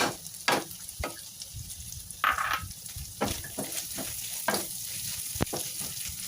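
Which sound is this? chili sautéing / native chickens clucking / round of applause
chili sautéing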